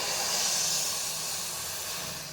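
Boiled water poured from a pot into a bowl for reshmi paratha dough, a close, continuous hissing rush that eases off slightly toward the end.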